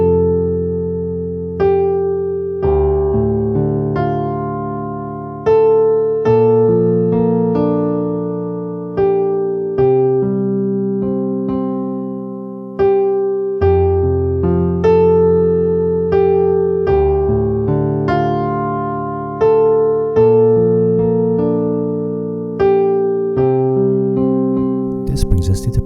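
A piano plays a 1980s-style part with both hands, sustained chords in the left hand under a repeating right-hand melody, clear and close without talk.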